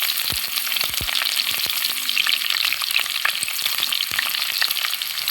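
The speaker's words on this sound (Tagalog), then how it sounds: "Haluin na natin until mag-golden brown itong ating onion at saka garlic." Onion and garlic fry in hot oil, a bright crackling sizzle with frequent spatula scrapes and knocks in the pan, near and steady, with no one speaking.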